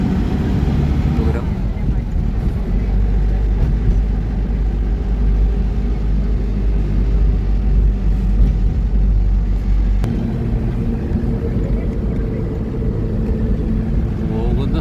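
A car climbs winding mountain roads in Uttarakhand, its engine a loud, steady, close rumble inside the cabin that continues without a break.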